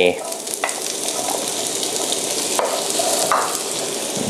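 Steady sizzling of onions frying in butter in a pan, continuous crackle with occasional sharper pops and stirring scrapes, close and fairly loud, no voices, as the heat is turned back up.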